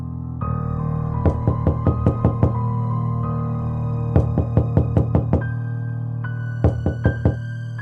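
Knuckles rap on a wooden bedroom door in three short bursts of quick knocks, each cluster sharp and close over a steady low background hum, with no voices.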